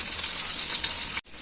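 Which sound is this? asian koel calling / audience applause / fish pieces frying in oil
fish pieces frying in oil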